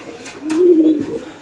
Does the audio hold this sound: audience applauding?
no